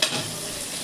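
Onions sauté in a pan for a thakkali kurma, giving a brief, steady close sizzle with stirring and no voices.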